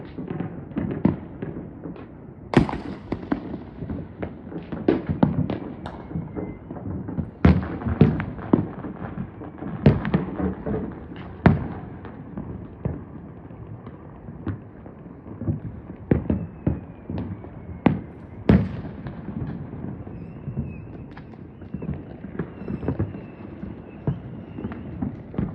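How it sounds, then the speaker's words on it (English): New Year's Eve fireworks in southern Mexico go off all around, with sharp cracks and bangs from near and far at an irregular rhythm over a crackling, rumbling background. "So these fireworks are going off all around."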